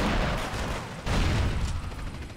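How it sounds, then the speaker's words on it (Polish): Explosions in Grand Theft Auto IV: San Andreas gameplay come as rumbling broadband bursts, with one heavy boom midway followed by a rolling, noisy tail. "i te epickie wybuchy na 25 klatkach"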